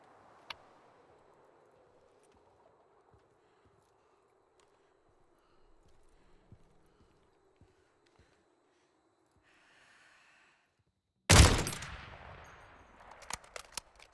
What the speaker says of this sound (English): No, somebody's shooting.